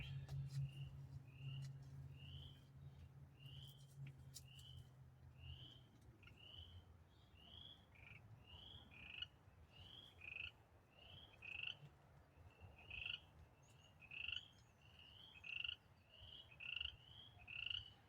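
Tree frogs, spring peepers, call outdoors in short high chirps repeated many times. The calls are faint and distant at first, then come faster and denser, over a low hum early on.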